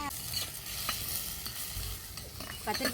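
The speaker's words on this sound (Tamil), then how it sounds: "நல்லா வதக்கியாச்சு எண்ணெயிலேயே" Ingredients for a dried vanjaram fish curry sizzle in oil under close stirring, a soft steady crackle marked by occasional scrapes and clicks of a utensil against the pan.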